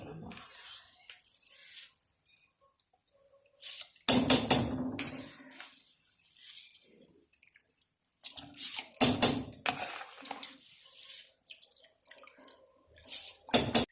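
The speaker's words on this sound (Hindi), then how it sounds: "थोड़ा सा पानी निकाल लूँ बर्तन में" Water poured from a pot of boiling water for rice into another vessel in a home kitchen while making keema biryani, splashing in several separate bursts with quiet pauses between them.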